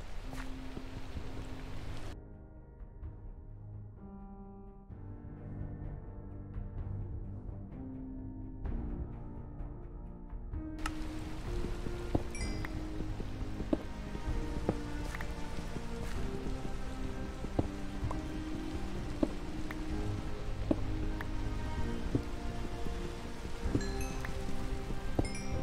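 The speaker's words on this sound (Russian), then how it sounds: "А, дождь идет, я думаю, откуда звук водопада, елки-палки." Steady rain falling outdoors on a trip back to a village, a continuous rushing hiss like a waterfall, with some tonal music-like sounds mixed in at first and occasional drips throughout.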